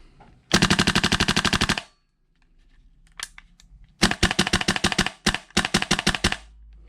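A GHK G5 airsoft rifle fires on full auto, first a rapid burst of about a second and a half, then after a pause several shorter crisp bursts of rattling shots, close and loud.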